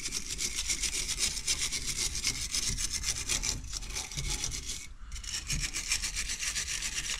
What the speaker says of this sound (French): prendre une brosse à ferraille simplement pour venir déjà nettoyer un peu